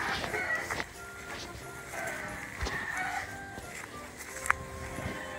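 Chickens on a rural farm give a few faint, scattered clucks and calls amid quiet outdoor ambience, with one sharp brief peak near the end.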